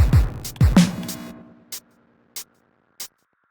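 A few thumping hits give way to sparse, short hi-hat ticks spaced about two-thirds of a second apart, crisp and isolated.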